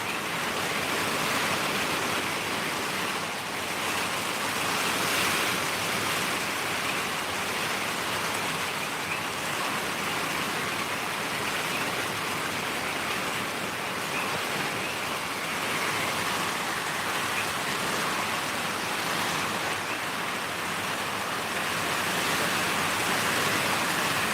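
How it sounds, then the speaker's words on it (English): Heavy deluge in Mountain View, Hawaii, a dense, steady roar of rain and wind at even loudness throughout, no voices. "I'm still getting some good wind."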